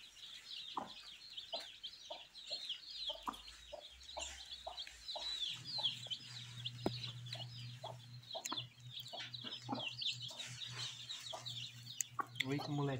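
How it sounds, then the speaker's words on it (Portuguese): Hens and young chicks on a smallholding cluck and peep steadily throughout, with birdsong-like high chirps over scattered low clucks and a steady low hum in the background. "Foi a última que tirou o pintinho."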